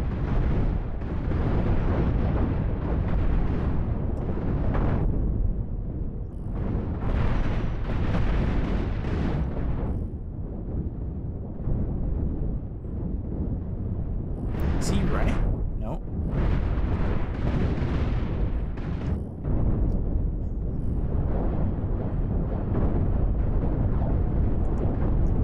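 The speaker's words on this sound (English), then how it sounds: "Just watching the missiles go out." Swarm missiles in Cosmoteer launch and explode in a long, dense barrage of deep booms and rumbling blasts, with loud bursts recurring throughout and a few sharper cracks standing out.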